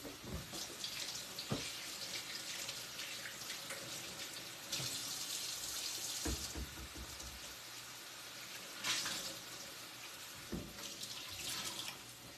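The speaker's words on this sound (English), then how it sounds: "I'm going to rinse my fingers." Water runs steadily from a kitchen tap while fingers are rinsed after separating egg yolks for quiche, a continuous close splashing stream with brief surges and no talk.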